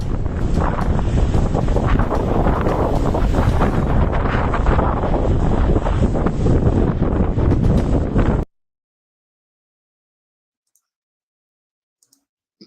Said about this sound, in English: Man, y'all hear that wind?